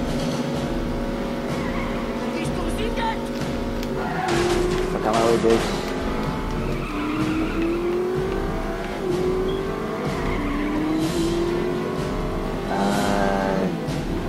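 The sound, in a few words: cars skidding and racing in video game The Saboteur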